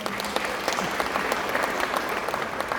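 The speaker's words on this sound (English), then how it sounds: "we can clap for them" Audience applause fills a room at an airline symposium at Martin State Airport, steady dense clapping from a crowd sustained throughout without pause.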